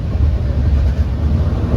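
A passenger train running from Panvel to Mangaon rumbles steadily with strong low-frequency noise and wind buffeting, continuous and close throughout.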